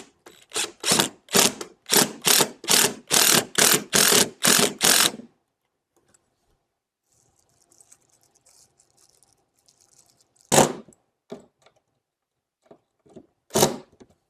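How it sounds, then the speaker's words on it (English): Rapid ratcheting clicks from screws being driven in while a Lowrance FS sonar unit with ActiveTarget is installed, a quick run of about a dozen loud, close clicks, then quiet with a couple of isolated knocks. "once our first 2 are in, we will screw in the others"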